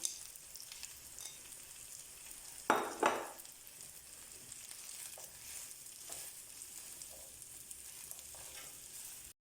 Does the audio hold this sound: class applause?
no